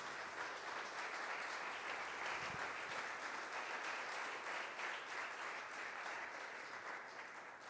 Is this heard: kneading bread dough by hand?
no